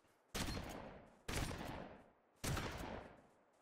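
In the game Project Winter, three loud, booming gunshots ring out about a second apart, each a sharp blast that trails off into a long fading echo.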